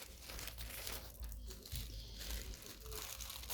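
Papery crinkling and rustling of wrapping paper being pulled out of an opened parcel goes on steadily, close by, with soft crunches and handling noises throughout.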